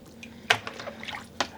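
Dyed cashmere yarn skeins being rinsed by hand in a basin of water, with quiet splashes, drips and soft squishing, two sharper sloshes standing out against a low background.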